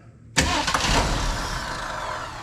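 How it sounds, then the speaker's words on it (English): A 1974 Ford Bronco engine cranks and fires up after sitting for 16 years, catching abruptly and settling into a loud, rough, steady idle close by. "So let's start it up, and we're just gonna kind of rotate through the gears just a little bit and let that transmission wake up."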